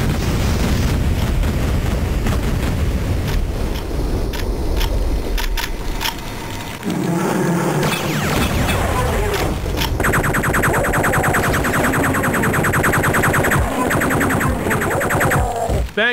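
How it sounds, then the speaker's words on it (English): A big level-exit explosion in the build-engine shooter Pro Nukem 3D: loud, sustained rumbling blasts and crashing debris give way to a busy, bright electronic texture, with a voice speaking over part of it. "Now to exit the level with a big explosion I don't even cause."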